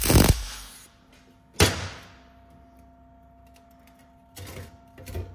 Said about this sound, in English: just tack that in there